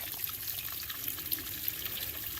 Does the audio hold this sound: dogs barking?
no